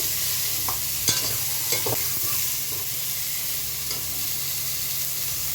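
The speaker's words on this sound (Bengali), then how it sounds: "আমার পটলটা ফ্রাই হয়ে গেছে" Pointed gourd (potol) slices fry in a pan with a constant dense sizzle, while a few soft scrapes and taps of stirring rise above it, with no talking.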